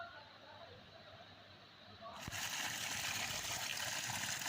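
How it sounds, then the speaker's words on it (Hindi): Cold spring water flows from a village hillside source, a steady watery rush that grows noticeably louder and fuller partway through and then holds. "यहाँ से हम ले रहे हैं ठंडा चश्मे का ठंडा ठंडा पानी जो हम पिएंगे"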